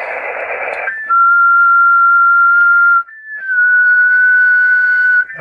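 A Stephens Engineering Association SEA222 HF SSB marine transceiver on the 30 meter band sounds a short hiss of static, then a loud steady whistle-like tone. The tone breaks briefly, shifts pitch slightly and resumes, close and continuous.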